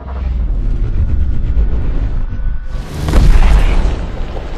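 Explosion in a high-speed ballistic test, a heavy low boom rumbling for several seconds, then a second sharper burst with broadband crackle that swells and fades, loud and without talk.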